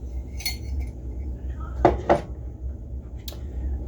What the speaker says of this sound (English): I had to do up the dishes here real quick.